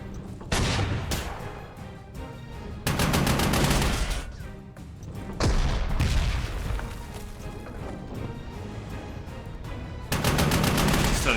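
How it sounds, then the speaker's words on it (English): Artillery and gunfire in the war strategy game Panzer Corps 2 come as loud heavy bursts of rumbling fire in several long waves, separated by brief quieter gaps. "That's artillery, isn't it?"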